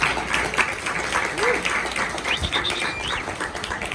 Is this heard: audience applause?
yes